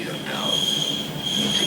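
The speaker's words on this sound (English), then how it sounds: "We will now have a few minutes stop here at Myrdal while we are waiting for the train coming" A train at Myrdal station on the Flåm Railway gives off a sustained high metallic wheel squeal over a steady rolling rumble, fairly loud and continuous.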